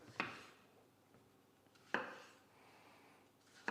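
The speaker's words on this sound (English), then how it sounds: "And we're going to cut them into quarters." A kitchen knife cuts ripe tomatoes into quarters on a board, giving three separate chops with a crisp knock at each stroke and quiet pauses between them. The sound is soft and close, with no talking.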